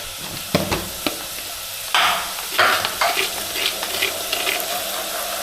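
Village-style dried fish curry fries in a pan, with a low sizzle punctuated by sharp spoon clanks and stirring scrapes against the metal, several loud bursts spaced irregularly.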